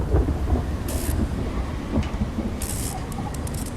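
Low rumbling storm noise in the video game Will Follow the Light, thunder from lightning rolling steadily through the clip with brief hissy crackles and spray-like bursts layered over a constant low roar.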